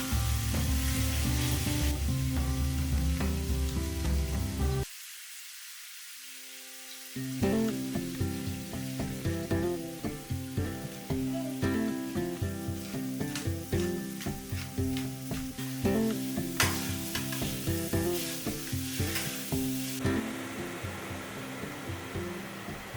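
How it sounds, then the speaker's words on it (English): A home cook frying food in olive oil seasoned with cumin, paprika, salt and black pepper, with a loud, steady sizzle near the mic, a brief quieter gap, then stirring scrapes and clatter over continued crackling. "I fry it in olive oil and season with cumin, paprika, salt, and black pepper."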